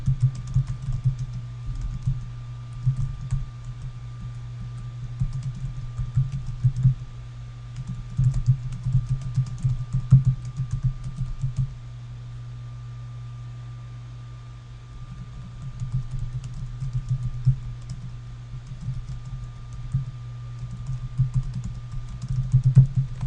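Steady typing on a computer keyboard while writing an email, with quick, irregular key clicks running close and clear throughout, pausing briefly now and then over a faint constant hum.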